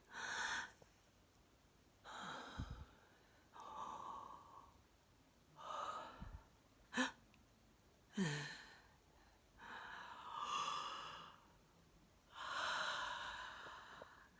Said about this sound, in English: I did about 4 inhales and exhales there